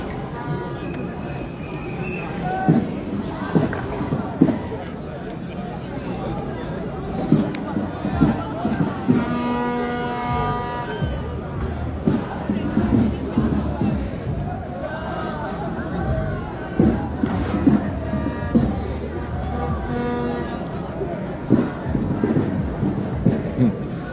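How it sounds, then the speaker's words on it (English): A crowd of protesters on two opposing sides shouts and screams at each other outdoors. The loud, jumbled babble of many voices rises and falls, with a few sharper yells breaking through the din. "given the crowd, is walk straight through both sides while they're screaming at each other"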